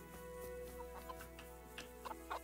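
Chickens cluck faintly in the medieval role-playing game Kingdom Come: Deliverance, with a few short, scattered clucks over a steady low background hum.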